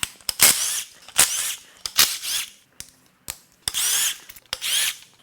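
Power tool, likely an impact gun, zipping bolts out of a 200,000-mile Subaru EZ30R 3.0 H6 engine during teardown: loud, close bursts of rattling hammering, repeated several times with short clicks and gaps between.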